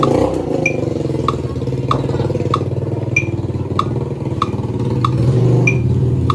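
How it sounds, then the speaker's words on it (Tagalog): A motorcycle runs steadily in the background, a loud continuous engine drone with faint regular squeaks ticking over it. "Tapos yung background mo may motor."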